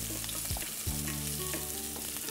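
Chopped onion and garlic frying in hot garlic oil in a pan, a steady close sizzle with occasional stirring scrapes and clinks, no talking.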